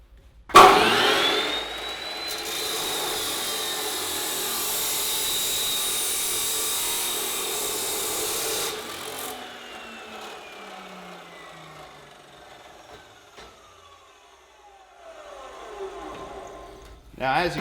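Saw blade cutting steel stock for a coffee table: a harsh, loud whining grind starts after a sharp clunk and holds steady for several seconds, then the blade winds down in a long falling whine.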